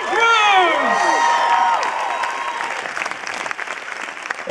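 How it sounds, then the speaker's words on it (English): Crowd at a London film premiere for Edge of Tomorrow applauding and cheering loudly, with high excited screams rising over steady clapping that continues throughout. "make some noise, it's Mr. Tom Cruise"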